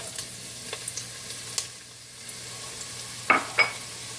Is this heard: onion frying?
yes